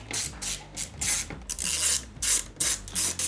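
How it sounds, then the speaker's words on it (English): A ratchet unscrews bolts on a sportbike, giving repeated bursts of rapid clicking in a fast, uneven rhythm, close and fairly loud, with no talking. "we need to just unscrew some bolts"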